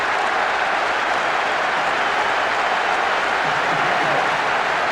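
Crowd noise in the video game Pro Evolution Soccer 6 after a goal in a Brazil versus Argentina match, a steady loud stadium roar that holds for several seconds with no clear peaks.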